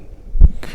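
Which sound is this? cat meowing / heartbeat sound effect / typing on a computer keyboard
heartbeat sound effect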